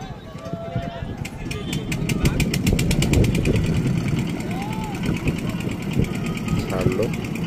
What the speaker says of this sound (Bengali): এখন এটা একটু স্যালো মেশিন বসানো আছে এই নৌকাতে